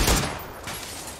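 A short loud burst of gunfire in a shooter video game, a quick cluster of shots fading into a noisy tail, with no voices.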